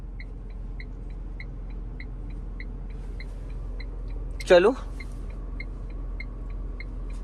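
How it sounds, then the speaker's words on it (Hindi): A Tata Punch pulls away slowly on a brick-paved lane as the clutch is released, giving a low, steady engine rumble throughout, with a short spoken word breaking in near the middle. "अब ब्रेक को फ्री करो और धीरे धीरे क्लच छोड़ो और गाड़ी को सीधा करना"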